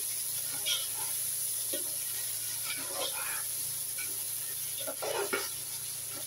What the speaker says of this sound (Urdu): اس کے پیاز زیادہ براؤن نہیں کرنے، بالکل لائٹ براؤن کرنے ہیں